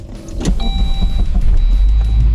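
A Saab convertible on BBS knockoff rims starts off on a drive, with a steady low engine and road rumble, a brief whine like a power window running, and a few faint clicks, close and without talk.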